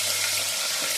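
Ginger garlic paste frying in hot oil in a kadai gives a loud, steady, close hiss and sizzle that holds constant without a break.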